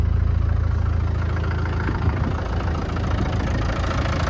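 A 1997 Land Rover Defender 90 with the 300Tdi diesel engine idles steadily, its low knocking clatter even and close with no voices.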